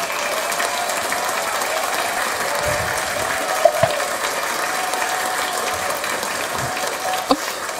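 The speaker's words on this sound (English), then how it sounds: "Okay, that's enough applause." Steady applause from a podcast audience, a dense, even wash of clapping heard from some distance with a few sharper claps standing out, filling the whole stretch.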